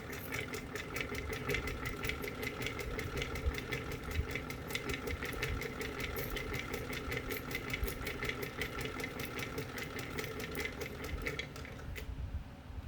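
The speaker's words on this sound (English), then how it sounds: "With this machine being a hand crank, you have a lot of control of what you can do with it." Singer 66 Redeye hand crank sewing machine stitching fabric, a continuous fast mechanical clatter of needle and gears, steady and fairly quiet, running alone for the whole stretch before stopping at the end.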